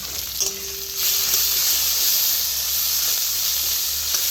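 Ginger, garlic and onion paste hits a hot pan with a loud, continuous hiss that starts partway in and holds steady, with a faint tone heard briefly near the start.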